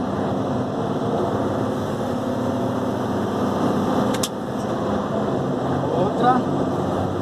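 A Mercedes Axor 3344 truck drives along with its engine giving a steady, close diesel drone heard from the cab. A brief dip marks a gear change, and a voice talks over the running engine.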